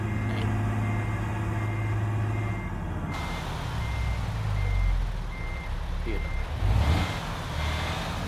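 Steady electronic reversing beeps from a truck backing up in Euro Truck Simulator 2, evenly spaced tones over a low engine rumble, with someone talking at times.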